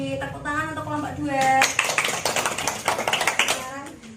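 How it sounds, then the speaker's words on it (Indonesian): Classmates in a microteaching session clap for a presenting group, a quick patter of hands picking up after a voice and continuing in a lively, uneven burst. "Tepuk tangan untuk kelompok 2."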